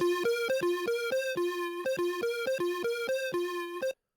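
A dry M8 tracker synth riff with its echo notes removed: bright buzzy tones in a quick bouncing pattern of short repeated notes, close and alone, cutting off abruptly at the end.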